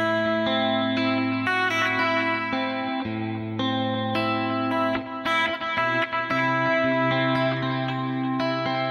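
Electric guitar notes picked across several strings, ringing together with effects-laden sustain and chorus shimmer, in a steady flowing arpeggio pattern.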